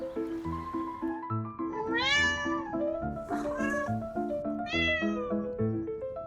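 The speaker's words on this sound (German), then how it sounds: "das ist einfach eine Kuh mit Katzensoundeffekt" Dubbed cat meow sound effects play over footage of a cow: several drawn-out, bending meows in succession, clear and fairly loud over a steady tonal background.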